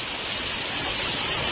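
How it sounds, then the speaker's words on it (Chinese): Heavy rain driven by strong wind pours down outside and sprays in under a shelter, making a dense, even wash of noise that stays loud and close for the whole short stretch. "今天这边下大雨了，我们站在里面，这个雨都喷到这里面进来了"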